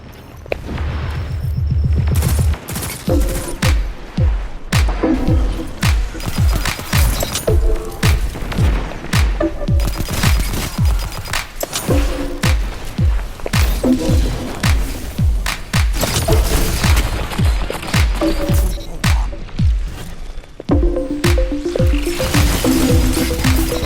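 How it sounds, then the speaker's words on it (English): A pulse rifle in a video game fires in repeated rapid bursts, each a tight cluster of sharp, punchy shots with short pauses between volleys, loud and close throughout. "This pulse rifle was actually kind of insane."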